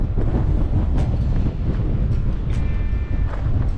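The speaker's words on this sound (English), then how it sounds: "Let me step out here into the wind and show you." Strong wind buffets the microphone outdoors at Chilkoot State Park in Haines, Alaska, a continuous loud low rumble with gusty fluctuations throughout.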